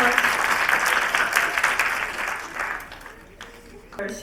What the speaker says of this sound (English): So just one round of applause for this.